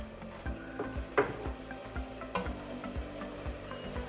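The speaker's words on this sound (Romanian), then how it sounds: "Acum adăugăm și foile de dafin. Adăugăm și cimbrul. Amestecăm." Cabbage with bay leaves and thyme being stirred in a pot, giving a soft sizzle with a series of scraping, clattering stirs spaced about every half second, close and moderately quiet.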